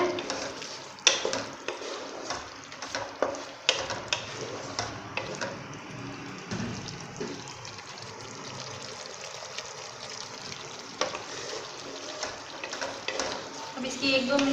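Masala for chana pulao is stirred and roasted in a pot over a stove, producing a continuous sizzle broken by frequent scraping and clinking strokes of a spoon against metal, close and moderately quiet, with no talking.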